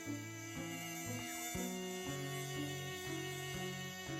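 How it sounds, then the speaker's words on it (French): A female Anopheles mosquito buzzes in a steady, close, high-pitched whine, its tone shifting slightly in pitch, with no other sounds. "La femelle anophèle pique la nuit pour se nourrir de sang humain."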